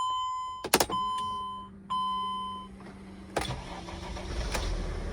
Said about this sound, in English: Should have no problem starting the vehicle.